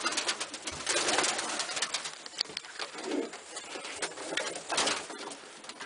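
White pigeons cooing in a loft aviary, soft repeated coos layered with rustling and shuffling movement, fairly close and steady throughout.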